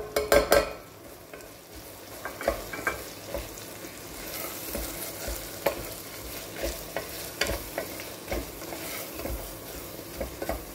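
Ginger and garlic fry in a pan with salt and turmeric, giving a continuous close sizzle that is repeatedly broken by stirring scrapes and clinks of a utensil on the pan.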